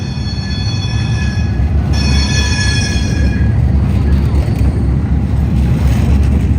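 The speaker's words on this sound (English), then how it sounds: "there's actually another metro just approaching" A metro tram approaching on rails in Porto, Portugal, a loud continuous rumble with high wheel squeal at the start, close by and steady throughout.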